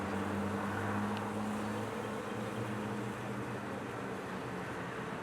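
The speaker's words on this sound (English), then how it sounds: "you'll notice some bees with pollen on the outside" Bees buzz softly and continuously outside a hive ahead of a swarm, a faint low drone with no one speaking.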